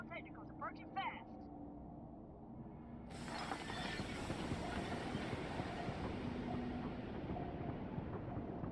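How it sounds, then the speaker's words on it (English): A train rolls past below in the Call of Duty: Future Warfare (NX1) game, a dense mechanical rumble with rattling, clanking metal that swells in suddenly partway through and stays loud and steady, after brief speech at the start. "We have to get on that train passing below."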